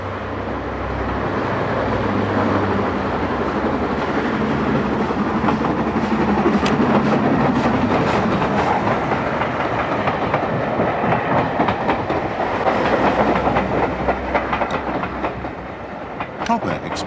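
The LMS steam locomotive Colliper, in 1930s maroon livery, running on the preserved Great Central Railway: a continuous loud rumble of the train passing, with wheel clatter and rushing noise swelling and easing over the length.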